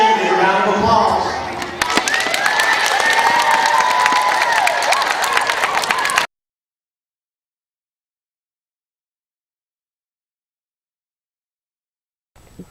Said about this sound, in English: Thank you, and a round of applause.